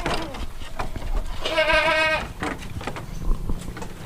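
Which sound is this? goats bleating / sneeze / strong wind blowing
goats bleating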